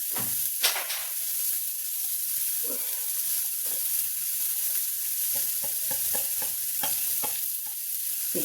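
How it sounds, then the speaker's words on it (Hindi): Asafoetida fries with onion, garlic and spinach for garlicky palak in a pan, a constant loud hissing sizzle with scattered clicks and scrapes of stirring, close up and with no talking. "इसी प्याज के साथ हींग भून जाएगी।"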